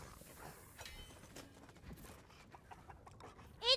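A chicken clucks a few times in Fortnite amid quiet background noise and soft clicks, ending with a louder squawk.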